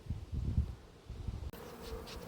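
Honeybees buzz at the entrance of a hive in an apiary, a low continuous drone that swells and fades as bees pass near, close and fairly quiet, no talking.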